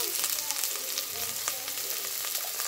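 Okra pieces fry in a pan with turmeric, giving a steady close hiss and crackle with faint stirring scrapes and a low hum beneath, no talking.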